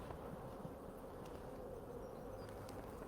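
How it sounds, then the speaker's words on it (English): Honey bees, worker bees busy on nectar-filled comb in an open hive during a beekeeping lesson, make a continuous faint, steady buzzing drone with no voices. "these are all worker bees, and they're busily putting a little bit of nectar in the comb"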